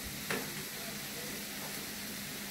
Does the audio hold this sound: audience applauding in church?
no